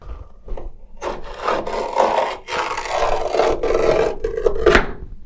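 Rasping cuts through old floor covering inside a 1950 Ford F1 truck cab, with rusted screws in place. The tearing, scraping strokes come close and loud in uneven bursts, with no talk.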